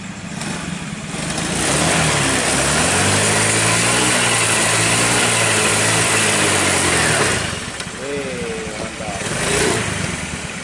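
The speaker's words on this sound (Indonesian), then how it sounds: "Kalian bisa dengar mesinnya teman-teman." Honda Beat motorcycle engine running close by, rising into a loud sustained rev, easing back, then a second shorter rev near the end, with a voice speaking over it.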